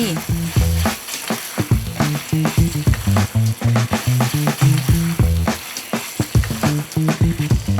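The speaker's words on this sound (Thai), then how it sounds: "ผัดให้พอเข้ากันดี" Bologna panang curry being stir-fried in a pan with coconut milk, fish sauce, sugar, kaffir lime leaves and chilies, giving a steady sizzle with stirring scrapes under rhythmic background music.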